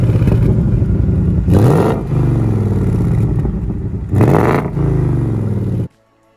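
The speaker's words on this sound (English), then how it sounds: "It even sounds pretty decent, as Kev will demonstrate." A Ford Mustang with its standard exhaust idles with a deep burbling note, then revs hard twice, each rev rising sharply and falling back, before cutting off into silence.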